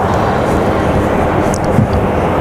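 An airliner in Mitch the Wolverine livery rumbles in a loud, steady roar at Raleigh Durham airport, with brief faint sounds over the engine noise.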